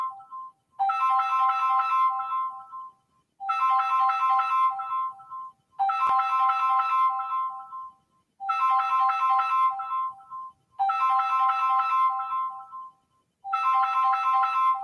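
Mobile phone ringtone playing a bright repeating melodic phrase six times with short pauses between rings, fairly clear and steady, with no talking.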